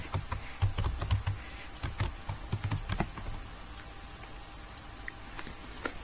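Keys clatter on a computer keyboard as a network ping command is entered at a command prompt, a quick irregular burst of clicks in the first half that thins to a few scattered taps, close and fairly quiet.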